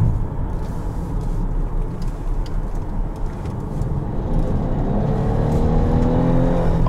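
A 2017 GMC Acadia All Terrain SUV with all-wheel drive is driven, giving steady low engine and road rumble from inside the cabin that swells slightly as it accelerates.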